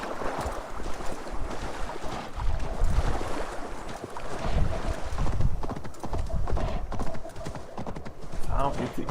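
Steady clip-clop hoofbeats of a moose mount trotting along in Assassin's Creed Valhalla, mixed with game ambience, while a person talks over it.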